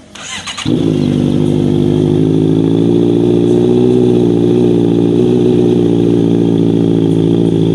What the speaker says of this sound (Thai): เราจะมาเทสเสียง ท่อนะครับไดนามิก ซึ่งสั่งมาใส่วันนี้นะครับ